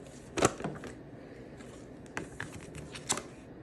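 Tarot cards are shuffled by hand in soft, irregular riffles and taps, with a couple of sharper snaps standing out against a quiet room.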